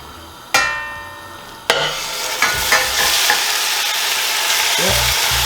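Turkey neck pieces dropped into hot oil for Jamaican brown stew, a few sharp impacts bursting into a loud, close, continuous sizzle that builds and holds, with no talking.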